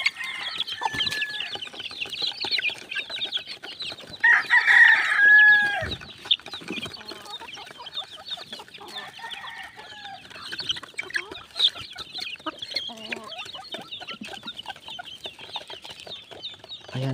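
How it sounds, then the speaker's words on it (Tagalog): Young chicks cluck and peep steadily at close range while feeding at a trough on a small farm, with a brief louder burst of calls partway through and no talk. "tumutuka na po yung ating mga alagang sisiyo sa kanilang labangan or patukaan"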